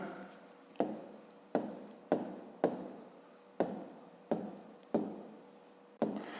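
Handwriting on paper during a fifth-grade maths exercise: eight rhythmic pen strokes, each a sharp scratchy onset fading out, close and fairly quiet, with no talking.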